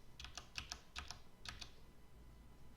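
Faint clicks of computer keys being pressed, a few quick separate taps in small clusters, then quiet, close but soft.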